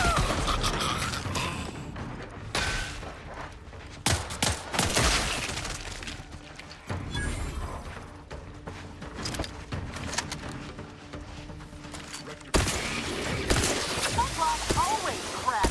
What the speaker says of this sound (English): Shooting mechs is too easy.